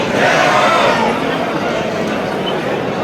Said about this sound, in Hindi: भयंकर भीड़ है।